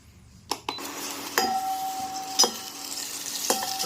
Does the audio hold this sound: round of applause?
no